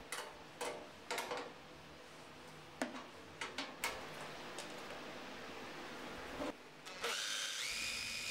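A drill works on a benchtop unit cover, with short ticking and tapping bursts at irregular intervals, then a whining spin near the end, moderately faint.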